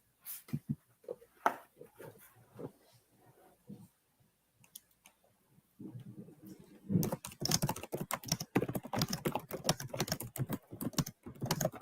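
Fingers type on a computer keyboard, quiet scattered key clicks at first, then a dense, rapid burst of clacking in the second half, no voices.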